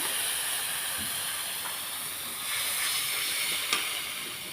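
Steady hiss of steam as a little water hits ginger-garlic paste and spices frying in a hot pan for a fish curry, a continuous broad sizzle that swells briefly near the end, with no talking.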